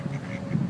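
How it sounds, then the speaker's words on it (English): Ducks in a riverside park give a brief burst of two or three close, nasal quacks with no speech over them. "We have a ton of ducks."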